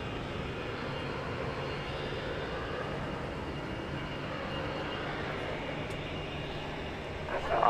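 An American Airlines jet departs Houston Intercontinental, its engines a steady, distant broadband roar that holds evenly throughout and swells slightly near the end.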